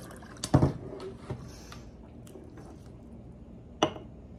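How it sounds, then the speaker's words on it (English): Smirnoff vodka is poured from a bottle into a jar of dried fruit. There are a few short splashes and a glassy clink, and the later stretch is quieter. No one speaks. "I'll pour another half cup in there and see where we stand."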